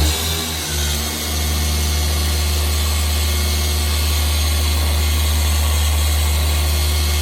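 A Rupes 21mm polisher drones steadily and loud up close while polishing, a constant low motor hum with a brief dip in the first second, no speech.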